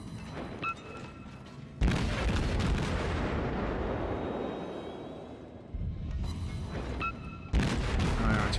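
Naval guns fire high-explosive shells in World of Warships, two heavy booming salvos with a long rumbling roar between them, loud and close.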